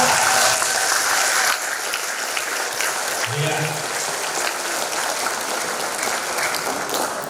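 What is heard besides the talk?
audience applause at training event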